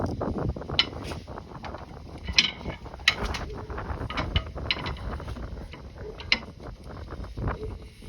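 A ratchet tightens a nut and bolt on the stabilizer link of a car, giving rapid, repeated metallic clicking in close bursts, with clanks of tools and parts in between.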